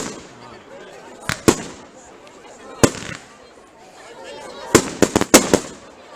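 Fireworks crack and bang at a distance on Bonfire Night, with scattered sharp pops in a cluster near the end over a steady outdoor background hiss.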